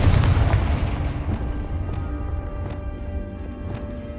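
A Confringo spell explodes in Hogwarts Legacy: one loud, close boom at the start that rolls off into a long rumbling tail, with faint crackles and a low hum beneath and no talk.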